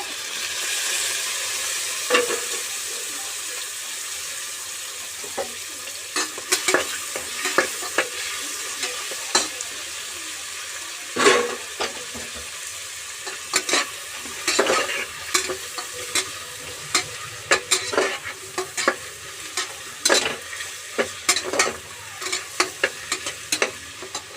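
Tomatoes fry for boti biryani, a soft continuous sizzle punctuated by frequent stirring scrapes that come in irregular clusters throughout.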